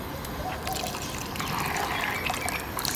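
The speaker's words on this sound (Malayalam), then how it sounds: "ഒന്നാം പാൽ ഇങ്ങനെ ഒഴിക്കുക" First coconut milk trickles and pours into a pot of ada pradhaman, a steady close liquid stream lasting a few seconds with no talking.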